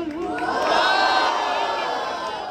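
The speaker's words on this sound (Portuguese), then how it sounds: "Barulho para Tonhão!" Crowd at a rap battle erupts in loud cheering and shouting for a rapper, a dense swelling roar of many voices that peaks and holds for a couple of seconds.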